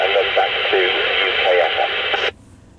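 Noisy AM reception on a Thunderpole T-X CB radio in CEPT mode, a voice talking through heavy static hiss, then the signal drops out and only faint background remains.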